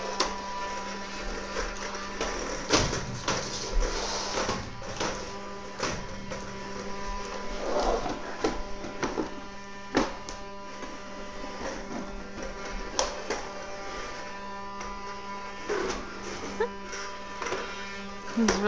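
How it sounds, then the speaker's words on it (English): A young boy vacuuming the house, a steady mid-level motor drone running the whole time with small bumps and clatters, while people talk over it now and then. "He's really concentrating on vacuuming."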